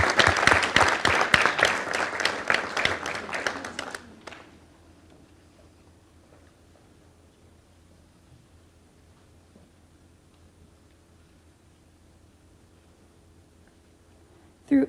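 Audience applause for newly inducted National Honor Society members at a school ceremony, a burst of crowd clapping for about four seconds that cuts off into a quiet room hum.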